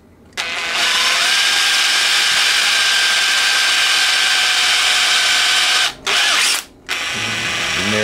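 A power drill bores a hole through a small beeswax ingot, its loud, steady whine running almost nonstop, with two short stops near the end before it spins up again.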